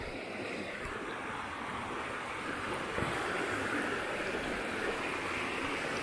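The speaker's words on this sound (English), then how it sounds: "Just to listen to the water running" The River Derwent rushes continuously in a broad, steady wash, heard nearby, with a faint breeze and no voices.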